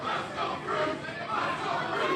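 Crowd at a Pure FC mixed martial arts event cheering and chanting for debuting fighter Nick Freeze, a dense, steady roar of many voices with rising swells of rhythmic shouting across the whole moment.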